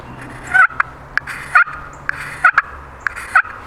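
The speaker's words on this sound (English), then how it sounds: "and you'll make a larger cluck." Louder, drawn-out clucks from a turkey slate call come in irregular pairs and singles, close and clear against a quiet background.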